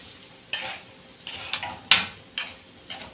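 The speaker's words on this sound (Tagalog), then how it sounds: "Igigisa lang natin yung ating carrot." Carrots and pork sautéed in a pan for pancit bihon: a utensil scrapes and clacks against the pan in about six separate strokes over a soft sizzle, close and clear with no talking.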